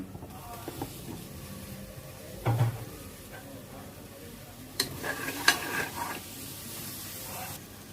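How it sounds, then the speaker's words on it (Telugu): Masala paste of coconut, poppy seeds, coriander seeds and tomatoes frying in a pan for goat head curry, a soft low sizzle with scattered spatula scrapes and a louder burst of frying near the end. "మసాలా అంతా ఫ్రై అయిపోయిందండి"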